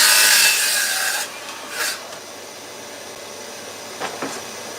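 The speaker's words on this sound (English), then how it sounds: "I just want to show you how quick and easy it is to cut with this saw" A saw running along a guide rail cuts through timber with a loud, bright whining rasp for just over a second, then winds down, followed by a few faint scraping and knocking sounds.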